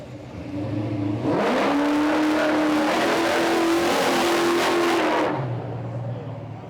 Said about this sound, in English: So we're running the cars now.